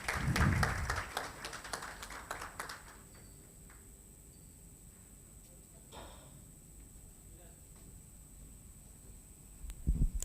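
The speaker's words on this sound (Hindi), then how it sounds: "जोरदार तालियां हो जाए" A short burst of audience clapping at a celebration event at Holiday Inn Bur Dubai opens and quickly fades, leaving a quiet room with a faint steady hum.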